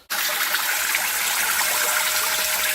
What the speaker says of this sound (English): So this is the water pump I got.